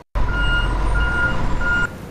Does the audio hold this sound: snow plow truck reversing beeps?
yes